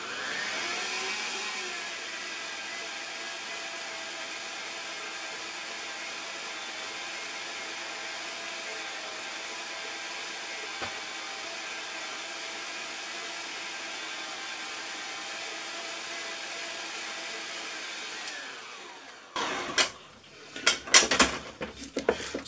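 Cookie mixture is beaten until creamy with a steady, droning whir that runs evenly for about eighteen seconds. It then stops and gives way to clattering knocks of bowl and utensils.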